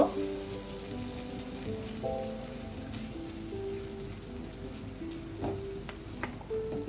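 Dudh pomfret curry sizzles in a pan while it is stirred, giving a continuous soft frying hiss with intermittent scraping and clinks of the spoon against the metal, close and moderately loud.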